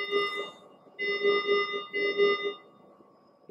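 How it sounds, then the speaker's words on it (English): An anaesthetic machine's pressure alarm sounds when the adjustable pressure limiting valve is tightened and the green reservoir bag fills. It gives a steady, pulsing electronic beeping in repeated bursts with short gaps, fairly clear, with no voices. "If I tighten it, a great deal of pressure goes to this green bag and the machine alarms."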